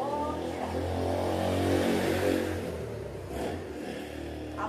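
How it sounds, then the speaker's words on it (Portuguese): A motorcycle passes nearby on a residential street outside a garden, its engine swelling to a peak and then fading away as it goes by. "A moto tá passando."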